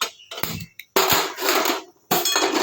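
A heavy stone grinding slab (shil) is set down in a home kitchen, giving several loud, hard clattering knocks and scrapes separated by brief silences.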